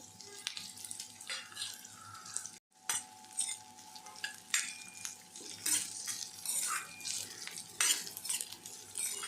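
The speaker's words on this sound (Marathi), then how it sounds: "आता याच्यामध्ये मी गाजर टाकत आहे बारीक चिरलेलं" Finely chopped carrots sauté in a pan for sweet corn soup, with a steady sizzle under repeated scraping and clinking of a spatula as they are stirred. Heard close up with no talking.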